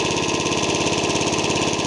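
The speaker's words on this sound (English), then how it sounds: "Not bad for a nearly 30-year-old engine." A nearly 30-year-old engine idling smoothly after a finger-pumped cold start, a steady even rumble with regular pulsing firing, close and constant with no talk.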